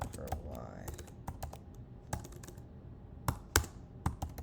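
Sharp, irregular clicks of typing on a computer keyboard while coding, with bursts of keystrokes and short pauses, close up over a quiet background hum.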